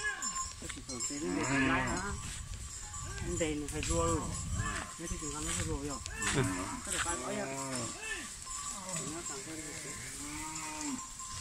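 A goat bleats repeatedly in wavering, nasal cries, close and loud over a farmyard background with other livestock, with occasional talk mixed in.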